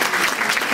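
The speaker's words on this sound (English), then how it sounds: "I think we need another big round of applause." Audience applause at a school science class cabaret event, brief dense clapping from a crowd heard loud and close, with no voices over it.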